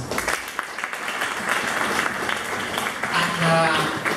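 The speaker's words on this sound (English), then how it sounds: "I think you need to clap God for that." A church congregation applauds during a sermon, a dense wash of clapping from many hands in a hall, moderately loud and sustained, swelling slightly toward the end.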